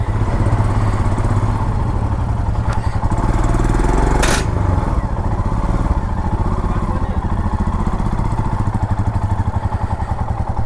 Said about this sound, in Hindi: यहाँ पे चला के देखनी थी हमको ब्रिज पे बाइक की कैसे चलती है सस्पेंशन ब्रिज पे